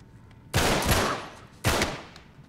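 Two loud, broad bursts of gunfire from the video game Uncharted 3: Drake's Deception, each a sharp onset followed by a sustained, decaying roar, about a second apart, with no talk.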